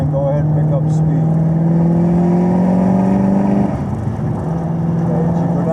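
Chevrolet Camaro ZL1 accelerating hard on a rainy race track, a loud, steady engine drone rising in pitch through a long pull, then dipping briefly at a gear change before building again.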